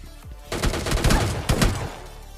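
MK14 rifle fire in a battle royale video game: a loud, close burst of several rapid shots in quick succession lasting over a second, then fading.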